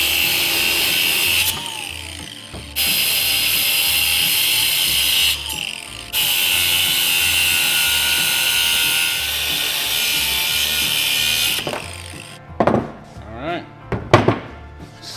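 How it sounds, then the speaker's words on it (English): A power tool trims down a metal shaft during a pulley swap, giving long, loud, harsh cutting passes broken by short pauses, followed by a few sharp clanks and knocks at the end. "we'll trim down our shaft."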